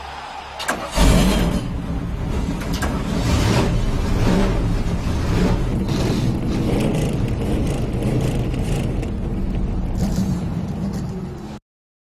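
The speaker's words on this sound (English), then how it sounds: "Gentlemen, start your engine!" Race car engines at a motorsport event fire up with a sudden loud start, then settle into a sustained rough, throbbing roar of several engines idling and revving close by until it abruptly cuts off.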